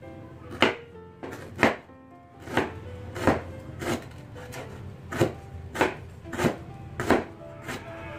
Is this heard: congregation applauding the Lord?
no